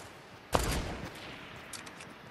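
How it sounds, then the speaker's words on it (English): A single sharp burst of gunfire in Fortnite Battle Royale lands abruptly after quiet, followed by a fading echoing tail and a few faint later shots. "Carefully shooting at you."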